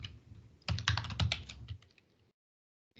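Fingers type a short burst of rapid, close keystrokes on a computer keyboard while writing Python code, clattering for about a second and a half before trailing off into near silence.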